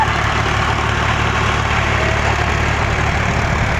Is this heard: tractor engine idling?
yes